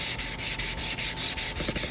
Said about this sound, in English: I should also note what I'm holding here is a sanding block.